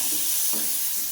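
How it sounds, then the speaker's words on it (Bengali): Prawns fry in a pan in a home kitchen, giving a steady, close hiss of sizzling oil with a soft scrape of stirring partway through and no talk. "চিংড়ি মাছ ভাজা।"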